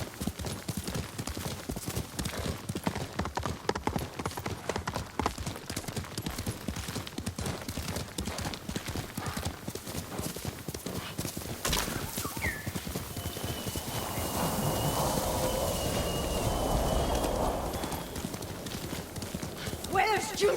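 Horse hooves clip-clop in a steady, continuous rhythm while riding in the video game Ghost of Tsushima, close and prominent throughout, with a brief whinny and game ambience layered in near the end.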